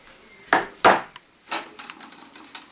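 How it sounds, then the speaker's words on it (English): Trigger pulled on a loose, sloppy Marlin SBL 45-70 lever-action rifle, giving two sharp metallic clicks close together, then a lighter mechanical click and a string of faint rattling taps from the hammer and action. "Here, pull the trigger."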